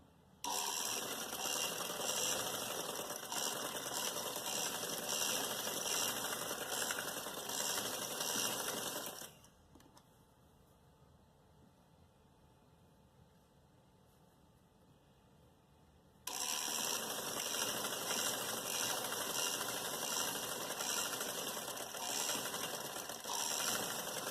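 A sewing machine stitches a salwar trouser with a steady, loud mechanical whir. It runs for about nine seconds, stops for roughly seven seconds of near quiet, then starts up again and keeps running to the end.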